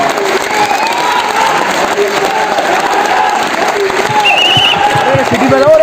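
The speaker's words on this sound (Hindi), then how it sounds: "एक बार जोरदार तालियां आप अपने लिए बजा सकते हैं" A training-program audience claps loudly for themselves: a dense wall of applause with some cheering, while a voice speaks over it throughout.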